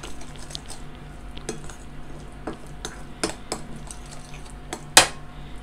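A spoon stirs ginger, garlic and green chili paste in a bowl, making soft squishy mixing with repeated clinks of metal against the dish and one louder knock near the end, close by and without talk.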